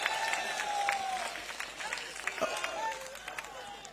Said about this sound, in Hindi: जोर से ताली बजाइए नारायण सिंह के लिए